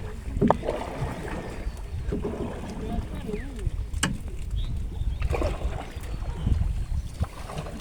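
A small country boat is rowed through grassy, water-lily-filled water, with soft repeated splashes and swishes of the oar against vegetation, steady wind noise, and people talking nearby throughout.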